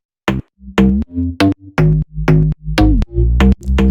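Layered bass attack sounds from an electronic dance track play in punchy, sharply cut bursts, each a bright percussive hit over a deep tonal bass body, loud and dry with short silent gaps in a syncopated pattern.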